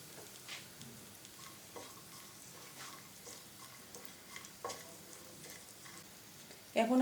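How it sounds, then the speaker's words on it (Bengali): Three cracked cardamom pods drop into a frying pan while making semolina halwa, giving a low, steady sizzle with scattered soft clicks and stirring scrapes, and a louder clatter near the end. "এ পর্যায়ে আমি দিয়ে দিচ্ছি 3টা এলাচ। এলাচ 3টা কিন্তু আমি মুখ ফাটিয়ে নিয়েছি।"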